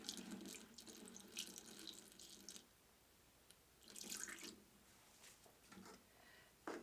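Micellar water pours unevenly from a poorly spouted pitcher into bottles, giving quiet splashing trickles in two bursts with a pause between and faint drips at the end.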